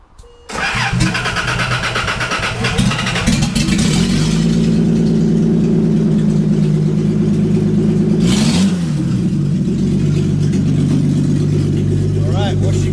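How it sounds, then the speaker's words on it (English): A Nissan 280ZX engine cranks and fires up loudly after a second, settling into a steady rumbling idle with revving swells while raised for a clutch replacement, excited voices talking over it throughout. "So now let's fire this thing up and make sure the wheels actually move before we let it down."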